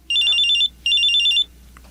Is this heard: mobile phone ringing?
yes